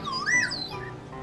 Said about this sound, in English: Oh, there's that slidey whistle again.